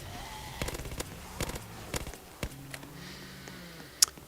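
A PPSH submachine gun fires at zombies in a Zombie Uprising video game as rapid clusters of sharp cracking shots, dense in the first half and sparser later, with a few game tones sounding underneath.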